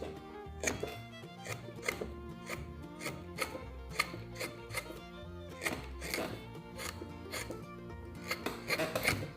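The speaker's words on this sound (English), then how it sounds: "Just getting all of those stock cuts down into the wood, like so." A short wood-carving gouge is driven down into wood to make stop cuts, a close series of irregular sharp knocks and chopping taps with brief scraping between them.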